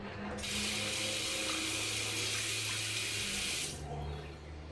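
Water gushes from a tap while shaving cream is rinsed off, a loud steady close rush lasting a few seconds, then cutting off to a quiet room hum.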